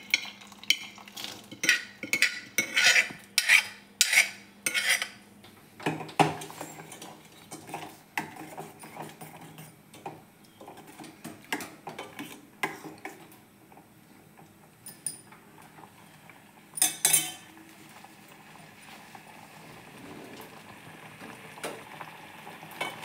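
Cooked chana dal gets stirred into sago payasam in a pot, with a burst of quick clinking spoon strokes at first, then softer intermittent scraping and stirring under a low bubbling background, near and moderate.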